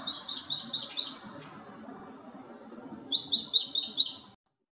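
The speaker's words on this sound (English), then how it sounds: "Goshawk." A goshawk gives two bursts of rapid, repeated high-pitched calls, each a quick series of sharp notes, separated by a quiet pause, fairly close and clear.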